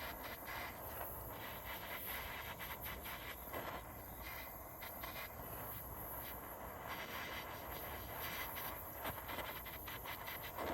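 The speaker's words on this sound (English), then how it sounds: "Get your blowtorch. And then just start heating it up until it melts." Blowtorch heating solder and shrink wrap on wires, a steady loud roaring hiss held throughout with faint crackles, no voices.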